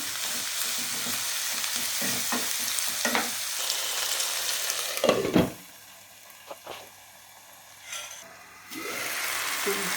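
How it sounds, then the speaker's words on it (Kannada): Tomatoes sizzle and fry with browned onion in a pan, a steady hiss broken by sharp stirring scrapes and clatters, then the sizzle quiets and rises again toward the end. "ಇವಾಗ ಟೊಮೆಟೊ ಹಾಕೋಣ. ಟೊಮೆಟೊನು ಸ್ವಲ್ಪ ಮ್ಯಾಶ್ ಆಗೋವರೆಗೂ ಬೇಯಿಸೋಣ."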